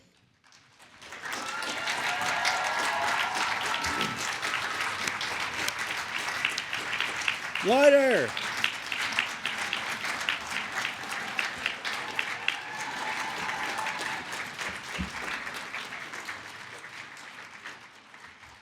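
Graduation ceremony crowd in a large hall applauds steadily for most of the clip, with a brief shout and a rising whoop midway, and the clapping slowly thins toward the end.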